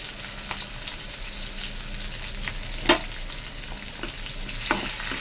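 Onions frying in a hot pan for an ivy gourd fry, a constant close sizzle with occasional clinks and scrapes of stirring.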